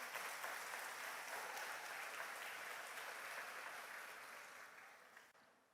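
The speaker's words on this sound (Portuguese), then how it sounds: "Pode aplaudir o Senhor" A church congregation applauds in a dense, sustained wash of clapping that stays loud, then slowly fades over the last seconds.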